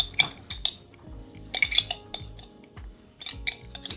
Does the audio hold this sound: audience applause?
no